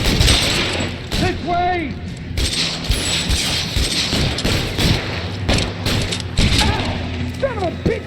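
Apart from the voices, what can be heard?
gunshots in the video game L.A. Noire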